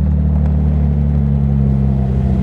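A 1977 Jaguar SS 100 Suffolk prewar-style sports car with over 200 hp, its engine droning in a loud, steady, deep rumble while driving, continuous and close with no talk.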